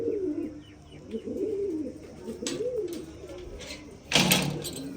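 Pigeons coo softly in low, rolling phrases, close by and unhurried, followed by a brief clatter near the end.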